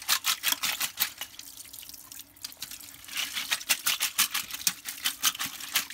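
Fresh water splashes and trickles over cleaned limpet shells during kitchen preparation of a Canarian dish, with a rapid patter of drips and rinsing that rises and falls, close and steady.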